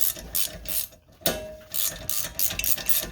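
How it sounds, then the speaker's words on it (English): A hand ratchet clicks rapidly while loosening a bolt on the rear brake of a 2016 Honda Civic LX sedan, close and loud in quick bursts with a short pause midway. "Alright, so starting the bottom one, just ratchet away."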